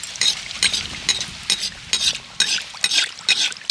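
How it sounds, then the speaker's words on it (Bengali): Potato puris deep-frying in hot oil, stirred with a spoon or slotted ladle: a close, steady bubbling sizzle broken by repeated rhythmic scraping strokes about every half second. "এইভাবে নেড়ে ছেড়ে আলু পুরিগুলো ভালো করে ভেজে নিতে হবে"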